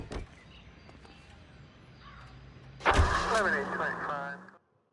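A car in the L.A. Noire game, engine idling faintly before a door shuts with a thump and the engine turns over and revs up into a rising drive, then cutting off abruptly.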